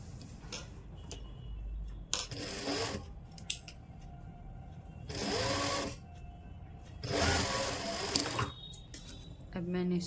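A sewing machine stitches the pocket seam of velvet pyjamas in a few short bursts of whirring, separated by quieter stretches of fabric handling and faint clicks, heard fairly close.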